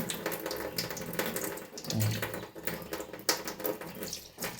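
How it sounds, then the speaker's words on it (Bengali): Water runs from a tap while lata (taki) fish are rinsed in a sink, a steady close splashing stream with irregular louder slaps and gurgles as the fish are handled, no speech. "সব ভালো করে ধুয়ে নেবো বন্ধুরা ল্যাঠা মাছগুলো"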